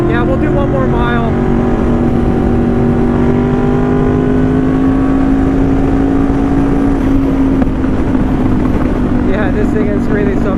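A Honda VFR 800 sport bike engine revs hard and steadily, its rising whine climbing and holding high through a long pull at close range, loud and continuous with wind rush.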